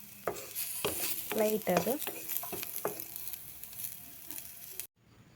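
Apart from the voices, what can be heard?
onions frying in a pan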